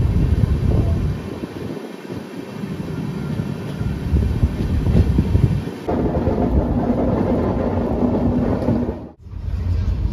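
Howrah–Digha Tamralipta Express rolling slowly, a steady loud low rumble of wheels and carriage heard from inside the train, continuous throughout with a brief dip near the end.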